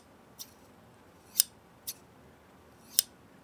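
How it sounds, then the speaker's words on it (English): LDH scissors snipping through yarn, four crisp metallic cuts spaced irregularly over a quiet background, two of them sharper and louder than the others. "that is the sound your scissors should make"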